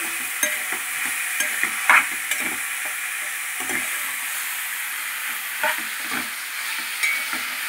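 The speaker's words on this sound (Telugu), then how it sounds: "ఇప్పుడు వేస్తున్నాం కదండి చికెన్ని, పైన కింద మొత్తం ఇలాగా కలుపుకుంటూ" Chicken sizzles in a hot pan while a spoon turns it over and over, steady frying hiss punctuated by repeated scraping stir strokes, close and fairly loud.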